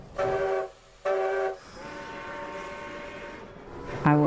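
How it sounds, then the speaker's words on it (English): Two loud sustained train horn blasts sound in quick succession, followed by a steady rumbling of a moving train, then a sharp horn or whistle burst at the end. "I was on a train."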